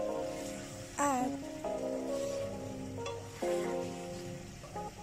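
Beef teriyaki and broccoli being stirred in sauce in a pan, with steady sizzling and scraping through the clip and a few louder clatters, with a musical tone running underneath.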